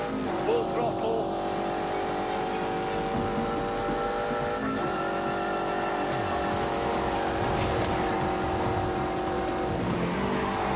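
A car engine runs at full throttle in the racing game The Grand Tour Game, a loud steady roar with rising revs and tire squeal, under a speaking voice.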